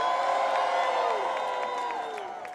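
A rally crowd of NAACP members cheers and whoops in a sustained, blended roar of many voices that holds steady and then slowly fades.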